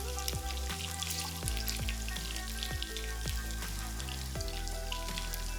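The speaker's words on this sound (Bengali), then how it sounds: "উল্টে দিয়ে এ পাশেও দু মিনিট ভেজে নিচ্ছে" Chicken pieces for kung pao chicken frying in a pan after being turned, a faint, steady crackling sizzle with small popping spatters throughout.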